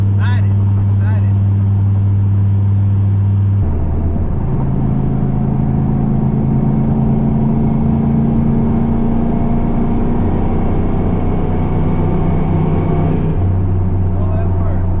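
A turbocharged Chevrolet Silverado pickup with a newly installed muffler drones loudly while driving, its engine note shifting as it accelerates and holds speed, with someone talking over the cabin rumble.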